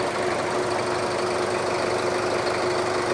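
A 2007 Ford Everest engine idles at close range, a steady, even mechanical hum with a constant tone that never changes over a few seconds, and no voices.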